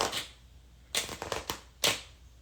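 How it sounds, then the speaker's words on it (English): Tarot cards shuffled by hand in short bursts: a brief riffle at the start, then a cluster of quick flutters and taps around one second and a final burst near two seconds, close and fairly quiet with no talking. "Let's do one more shuffle."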